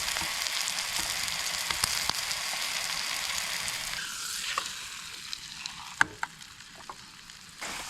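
Eggs sizzle and fry in a pan at a campsite, a steady close crackling hiss with occasional sharp pops and spatters, no talking.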